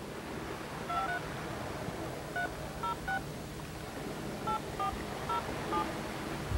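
Touch-tone phone dialing: a series of short, clear beeping tones in irregular groups of about a dozen, over a constant background hiss.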